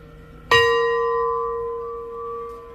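A single loud bell strike rings out close by, its tone lingering and slowly fading.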